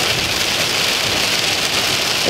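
Steady rain falling outdoors before a fireworks display, a dense, even hiss of drops on surfaces filling the whole stretch, loud and close with no voices.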